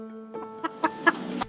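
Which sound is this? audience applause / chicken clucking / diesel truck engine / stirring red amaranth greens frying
chicken clucking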